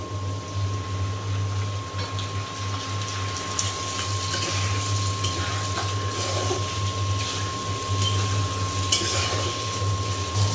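Washed, cut meat going into a pot of fried onions with cinnamon and cardamom for tehari, sizzling and bubbling steadily throughout under a constant low hum.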